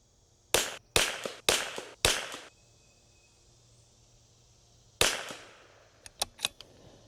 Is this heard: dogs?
no